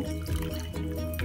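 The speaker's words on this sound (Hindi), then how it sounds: "सारे छेने को वॉश कर लेती हूँ" Water poured and swished over freshly made chhena (milk curds) in a home kitchen while making kalakand, a steady close liquid splashing and trickling with no talk.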